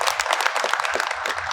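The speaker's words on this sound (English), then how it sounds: "Round of applause for these good people who do some good work for us." An audience at a school district State of the District event applauds the school board members, a dense, even clapping that holds steady and fairly loud throughout.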